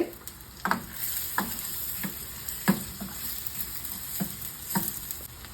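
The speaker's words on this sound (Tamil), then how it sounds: "இதையும் சேர்த்துட்டு நல்லா வதக்கி விட்டுக்கோங்க." Chopped big onion with ginger and garlic fries in a pan for Schezwan sauce, a constant close sizzle broken by regular scraping strokes of a stirring spoon.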